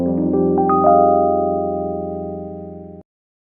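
A sampled sustained tonal drone called FP Roadrunner, from the Reason Factory Sound Bank, holds a steady pitched hum with a brief wavering bend near the start, fades slowly, then cuts off abruptly.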